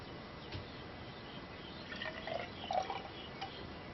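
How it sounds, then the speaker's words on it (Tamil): Heated potato dextrose agar medium poured into a test tube, giving faint small liquid drips and trickles over a quiet background. "இந்த அளவில் இந்த மீடியத்தை ஊற்றணுங்க"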